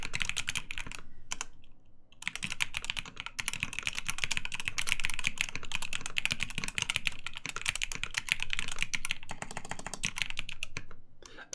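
Steady, continuous typing on a Matrix Abel mechanical keyboard fitted with FFF linear switches, with a hollow-sounding case; dense close-up keystrokes run almost unbroken for about eleven seconds, with only a couple of brief pauses.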